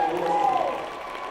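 A crowd at a girls' high school basketball championship applauds steadily as starters leave the court, with an announcer talking over the clapping throughout.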